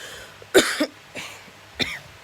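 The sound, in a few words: coughing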